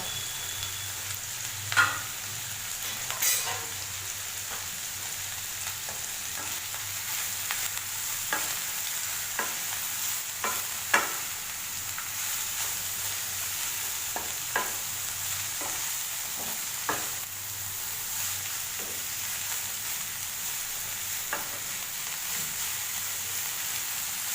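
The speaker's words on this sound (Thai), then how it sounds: "ผัดจนกว่าผักจะนิ่มนะคะ" Vegetables being stir-fried in a pan for fresh spring roll filling, a steady soft sizzle with repeated scraping and clinking stir strokes at close range, with no talk.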